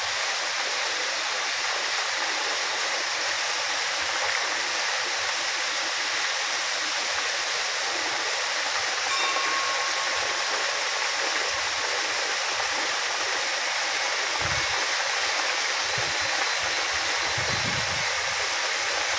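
Puliyuthu Aruvi waterfall near Bodimettu roars as a constant broadband rush of falling water, loud and steady throughout with no breaks, a few faint low thumps near the end.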